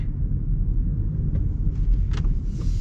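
A 2024 Ford Escape ST-Line with an 8-speed automatic drives slowly through a parking lot, heard from inside as a steady low road and engine rumble with a few faint clicks above it.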